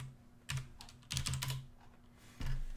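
Keys on a computer keyboard are tapped in a few short clusters of close, crisp clicks with brief pauses between them, in a quiet room.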